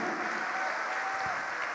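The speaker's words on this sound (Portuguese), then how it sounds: "Vamos aplaudir mais ao nome de Jesus." A church congregation applauds in worship, a steady, even roar of many hands clapping throughout a large hall, heard at a moderate distance and without any voice over it.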